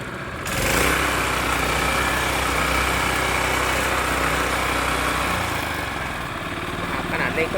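Mitsubishi MSD45 single-wheel 4.2 hp petrol cultivator engine starts up and idles nearby with a steady, smooth buzzing drone, while someone talks over it.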